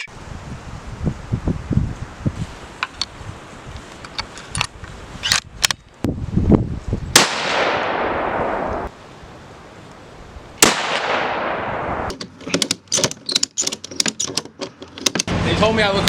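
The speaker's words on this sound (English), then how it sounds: "We're going to shoot our guns here, make sure they're all dialed up" Guns fired outdoors at a range to check their sights, several sharp loud reports spaced irregularly with long decaying tails, mixed with rustling and handling noise.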